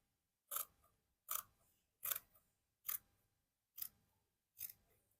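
Scissors cutting fabric for wide-leg palazzo pants, six crisp, evenly spaced snips, close and clear against near silence.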